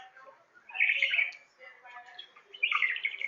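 Two pet birds, one a green male, chirp excitedly at a phone, with bursts of bright, close tweeting that rise, pause, then return stronger near the end.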